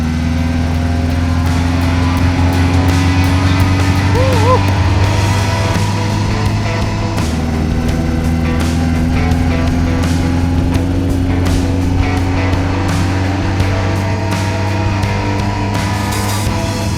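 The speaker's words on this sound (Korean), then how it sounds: "지금 타고 있는 차는 타입 C라는 에스턴 마틴의 레이싱카입니다." An Aston Martin Type C classic racing car of about 200 horsepower runs on ice at St. Moritz, its engine droning loud and steady throughout with a brief drop in pitch partway, heard from on board.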